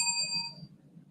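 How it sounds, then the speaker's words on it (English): A presentation timer bell rings once at a conference event, a bright metallic ding that decays quickly in a quiet room. "can you do testing for the bell?"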